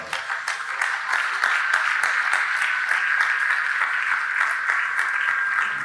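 A crowd applauds the CEO at a Radio Nirvana 30th anniversary event with loud, dense, steady clapping that holds evenly throughout.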